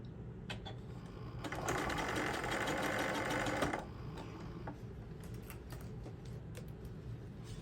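A sewing machine stitches tote bags in one short burst of rapid, even mechanical whirring, rising out of quiet room noise and stopping after about two seconds, with no talking.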